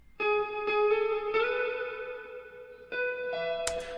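A short melodic phrase of sustained tones drenched in reverb, each note smearing into a long washy tail with little direct attack.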